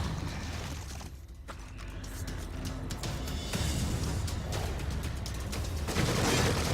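Gunfire from an allied character shooting enemies during combat in The Evil Within, a steady stretch of shots and booms layered over dense game noise at moderate loudness.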